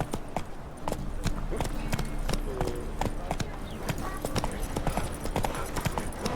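Rhythmic clip-clop of the horse Roach's hooves in The Witcher 3, a steady trotting beat close by, with faint game ambience and occasional speech underneath.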